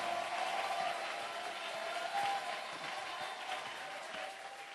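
A church congregation claps and cheers in acclamation during a worship service, a continuous wash of fairly distant applause and voices that slowly fades.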